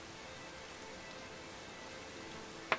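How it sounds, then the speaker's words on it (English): Video game rain falls as a soft, even, continuous hiss throughout, faint and steady, with one small sharp tick right at the end. "Apparently it's raining on me now."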